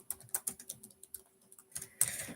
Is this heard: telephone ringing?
no